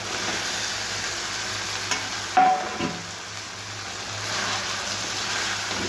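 Dried red chillies, bay leaf and cumin fry in hot oil in a wok for a fish curry, a steady close sizzle broken by a spatula scrape partway through.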